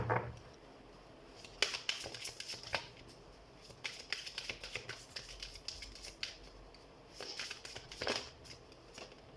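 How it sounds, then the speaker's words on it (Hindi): A deck of tarot cards being shuffled close by, in repeated crisp riffling bursts with short pauses between them, while no one speaks. "तो हम कार्ड शफल कर देते हैं।"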